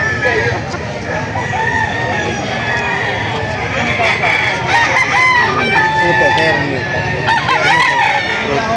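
Roosters crow amid the crowded bustle of a poultry auction market in Lipa City, with overlapping calls and clucking over a dense, steady din of background voices and activity.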